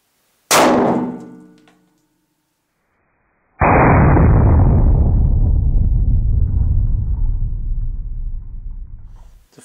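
A Glock 23 pistol fires at a smartphone: one sharp, loud report at the start decays within about a second. Quiet follows, then a loud, sustained broadband roar sets in and carries on for about six seconds.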